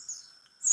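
Call of a female Oriental white-eye, a thin high tonal whistle held steady with a sharper rising note at the end, faint and alone with no voices.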